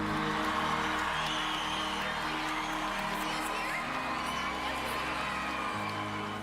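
A crowd cheers and whoops inside a school gymnasium, a loud continuous roar of voices with scattered shouts, with a voice talking over it.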